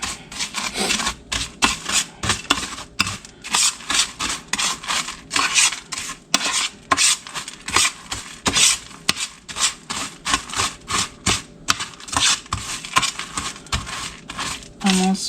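Butter being mixed into a potato casserole in a dish makes repeated scraping and rubbing strokes in an uneven rhythm, fairly close and continuous throughout.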